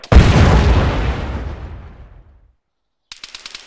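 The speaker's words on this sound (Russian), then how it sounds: "Какой был выстрел из танка 34." A T-34 tank gun fires once in the World War II game Iron Front, a loud booming blast with a long rumbling decay, followed a moment later by a few faint distant pops.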